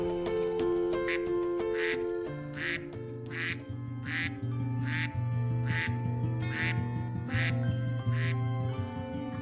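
A goose in a Bengali cartoon honks about a dozen times in a steady, evenly spaced run of nasal, quack-like calls, loud and close over continuous background music.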